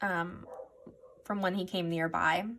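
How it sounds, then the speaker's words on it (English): A dog barking nearby indoors, a few sharp barks at the start and a louder burst of repeated barks near the end, under someone talking. "I'm so sorry about the barking."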